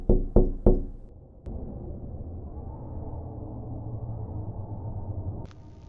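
Three sharp, close knocks in quick succession at the start of a scary story, followed by a low, steady ambient drone and a faint click near the end.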